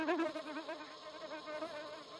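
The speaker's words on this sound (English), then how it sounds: "This euglossine bee has to visit the bucket orchid." A euglossine bee buzzes close by near a bucket orchid, a steady, wavering drone that continues throughout the short stretch without any voices.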